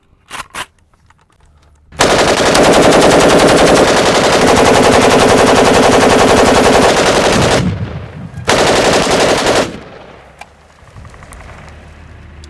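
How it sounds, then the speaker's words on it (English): Sustained automatic gunfire from a SAR rifle, an AK-47 pattern weapon, rips loud and close for several seconds, pauses briefly, then fires a second shorter burst before fading into quiet outdoor ambience. "We're gonna take care of it with the SAR here."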